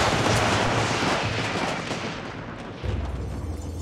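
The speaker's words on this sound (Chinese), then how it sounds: "他们在射击" Gunfire in the strategy game Age of Empires IV, dense rumbling volleys and booming blasts that swell, dip, then return in a heavy cluster, with no voices over them.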